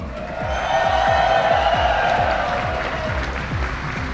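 Crowd at a Mortal Kombat 1 world championship grand finals erupts in loud, sustained cheering and applause, a dense wall of clapping and shouts lasting throughout, with a booming low rhythmic thump underneath.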